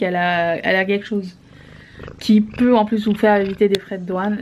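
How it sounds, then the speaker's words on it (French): A domestic cat purrs softly and continuously beneath someone speaking French close by, the low rumble mostly buried under her voice. "Vous entendez un ronronnement?"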